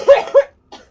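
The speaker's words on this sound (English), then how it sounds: "Can you cough quietly, please?" Two quick coughs in succession, close and fairly loud, followed by a brief fainter breathy sound after a short pause.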